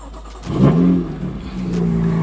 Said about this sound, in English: Here's a little cold start.